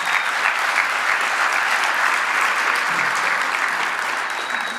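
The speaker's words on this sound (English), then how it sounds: "Please give yourselves a round of applause for that." An audience at a winter convening on violence reduction breaks into sustained applause, a dense, even wash of clapping that holds steady throughout before easing slightly at the end.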